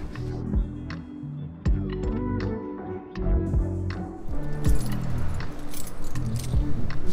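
A bunch of keys picked up and jangled, giving sporadic bright clinks and metallic taps at close range, with a few sharper knocks between them.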